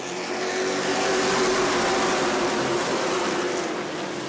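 Sportsman race cars at New Smyrna roaring on a green flag restart, a dense, loud, continuous engine drone that swells as the pack accelerates, with no voices over it.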